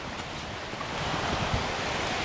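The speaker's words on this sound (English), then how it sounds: "You can hear the brook running behind me." Brook running beside a hiking trail on Seneca Creek near Spruce Knob, a steady broadband rush of flowing water with some wind, close and continuous with no talking.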